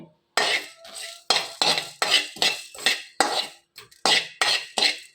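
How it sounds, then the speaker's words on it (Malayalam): Repeated scraping strokes of a spatula across a pan dry-roasting fenugreek and cumin seeds, about a dozen in steady rhythm, close and fairly loud, with no talking. "ഞാൻ ഉലുവായും ജീരകവും കൂടെ വറക്കുവാണേ"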